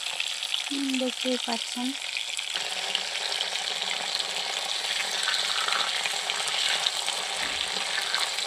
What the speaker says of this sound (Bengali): একটা একটা করে তেলে ছেড়ে দিচ্ছি।